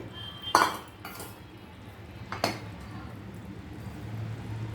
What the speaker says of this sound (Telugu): ఈ గిన్నెలో కొద్దిగా వాటర్ వేసి కలిపేసి పోసేసుకోవాలి.